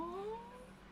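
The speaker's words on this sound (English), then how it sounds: "Oh, they have a kitty." An orange cat with a white chest gives a single faint, rising-then-falling meow close by, heard alone.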